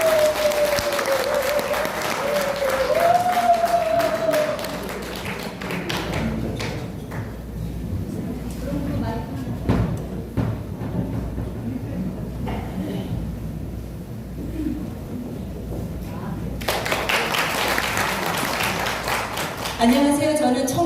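An audience at a church testimony and worship event applauds, a long stretch of clapping that thins out in the middle, swells again near the end and mixes with thumps and crowd murmur.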